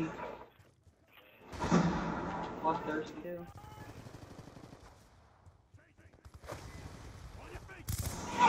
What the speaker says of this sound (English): I'm shooting the shit out of those dudes.